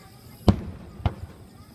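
Two firework bursts boom at the Inashiki fireworks festival in Japan, about half a second apart, the first stronger, heard from a distance over faint crowd murmur.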